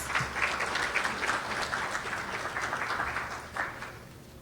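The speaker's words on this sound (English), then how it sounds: "Please give her a round of applause." An audience at an annual women's award ceremony applauds a keynote speaker, steady, continuous clapping from a moderately sized crowd that holds at an even level for the whole stretch.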